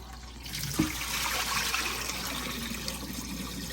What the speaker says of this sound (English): after I cut my potato into sticks, as you can see here, I wash it thoroughly